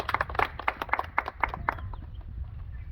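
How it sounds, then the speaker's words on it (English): An audience at a school gathering claps in a quick burst of uneven hand claps that fades after about two seconds, leaving low background rumble. "Let's first clap for him and thank him for that."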